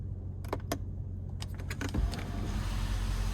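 Electric sunroof of a 2020 Mercedes-AMG GT 63 opening with a one-touch slide: a few soft clicks from the switch, then a smooth low motor whir building as the panel slides, heard close inside a quiet cabin.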